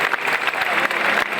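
Steady applause from a crowd as a religious procession carrying the monstrance of the Blessed Sacrament leaves the cathedral in central Murcia, dense clapping filling the scene throughout.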